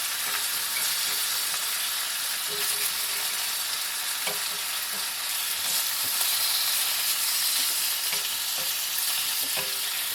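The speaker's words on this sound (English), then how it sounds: "I'm going to cook that bacon down a little bit and brown it" Bacon fries in an overly hot pan during off-grid homestead breakfast cooking, a loud, steady sizzle and crackle with scattered pops and occasional utensil clicks throughout.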